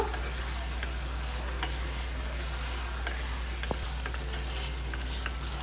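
Chopped tomato cubes and capsicum fry in an open pan while they are stirred, giving a steady, soft, close sizzle with a few faint scrapes and clicks and no talking.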